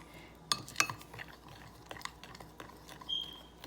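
Spoon clinking and scraping in a bowl while cinnamon icing is mixed and lumps are smashed out, faint with a few sharp taps near the start and soft stirring after.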